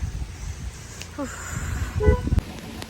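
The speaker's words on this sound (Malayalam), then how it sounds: "നല്ല മഴ പെയ്യുന്നുണ്ട് കേട്ടോ ഇതൊരു കാറൊക്കെ വരുന്നത്" A car approaches along a road in heavy rain and fog, with steady rain hiss throughout and a few short horn toots rising over the wet road noise near the end.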